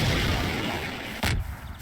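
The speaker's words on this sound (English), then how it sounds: "when I fire the RPG, it bursts out, and then these flames appear" An RPG rocket is fired in Garry's Mod and bursts with a flame effect. A dense, steady roar of fire and rumble is cut by one sharp, loud blast about two-thirds of the way through, followed by a fading crackle.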